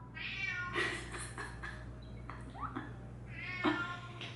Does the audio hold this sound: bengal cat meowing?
yes